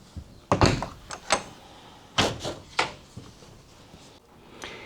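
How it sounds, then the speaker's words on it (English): A new RV entry door with a safety-glass window being worked: a quick run of close latch clicks, clunks and thuds, some sharp and some softer, spread over a few seconds with no talking. "I've got the full functionality of my RV door"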